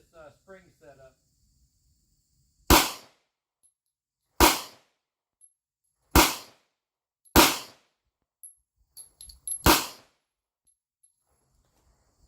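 Five sharp pistol shots from a short-barrel 1911, spaced roughly two seconds apart and loud against near silence, with a few faint clicks and a brief murmur before the first shot.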